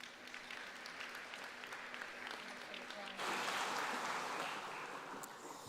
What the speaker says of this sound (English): Let's give all of our graduates a round of applause